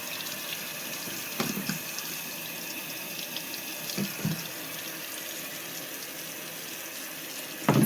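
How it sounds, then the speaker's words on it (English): Water from a sink faucet pours steadily over a reborn baby doll, a constant close splashing hiss with a few louder bumps and gurgles as the doll is moved under the stream. "I'm going to run her under the sink right now"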